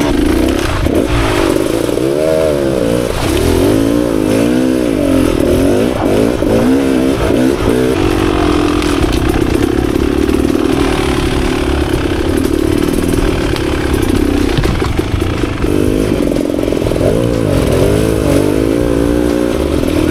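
Two dirt bikes, a Beta Xtrainer and a Kawasaki KLX 140, run continuously outdoors at a riding camp, their engines loud and close with wavering revs and occasional throttle blips.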